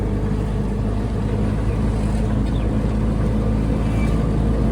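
Riding in an auto rickshaw along a village road near Patan, Gujarat, the engine drones loud and steady, a dense rattling rumble filling the whole stretch with no pauses.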